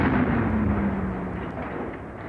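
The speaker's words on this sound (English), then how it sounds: "artillery barrages unlike anything seen before" A World War 1 artillery barrage sounds as a dense, continuous low rumble that fills the whole stretch and fades only slightly toward the end.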